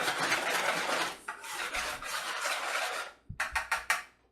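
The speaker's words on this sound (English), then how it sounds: "I just take my whisk and I just mix it until there's no more lumps in there" Bread dough mixture being whisked in a bowl for homemade bread, a steady rasping, scraping swirl close by for about three seconds, then a few short separate strokes and taps.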